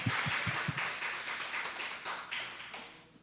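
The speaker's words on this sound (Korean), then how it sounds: "리모델링을 위해 함께 해주신 그리고 수고해주신 우리 모두에게 박수 한번" A church congregation claps together in an indoor sanctuary, a few distinct sharp claps at the start blending into steady, moderately loud applause that slowly fades out.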